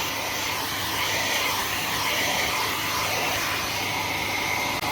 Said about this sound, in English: I'll just give it a tickle over with the hairdryer